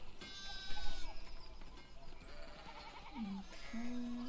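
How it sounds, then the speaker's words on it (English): Sheep bleat twice in the game Pentiment, a short wavering bleat followed by a longer steady one, heard over quiet ambient background sound and music. "There's a sheep in the way at the minute."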